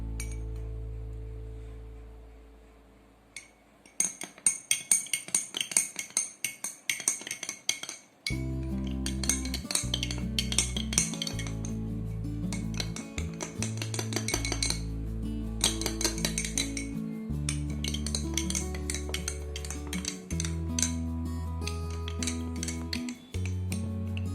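A spoon stirs hemp protein powder into milk in a glass, clinking rapidly against the sides in a quick rhythmic run, close and clear, with background music playing.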